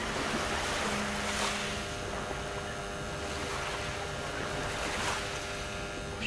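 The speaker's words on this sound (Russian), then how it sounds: "Тут может прибой даже вам слышно" Steady rushing surf of sea waves washing in at the port in Alanya, Turkey, in the evening, broad and continuous with gentle swells, no voices.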